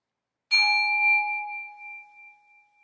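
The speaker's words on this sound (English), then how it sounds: "as I ring the bell, as you hear it, breathe out" A single bell is struck once in a quiet chapel, giving a clear bright ring that sustains and slowly fades over a couple of seconds with no other sound around it.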